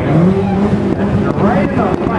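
A Ford race car accelerating hard on nitrous at a drag race, a loud rising engine note heard under excited commentary.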